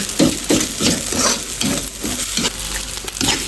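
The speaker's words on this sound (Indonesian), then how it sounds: "Kita tumis sampai kering." Seasoned minced meat stir-fries in a pan for a stuffed fried eggplant dish, loud steady sizzling broken by a regular rhythm of scraping spatula strokes, close up and with no voices.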